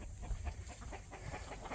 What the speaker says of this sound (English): You hear the chickens.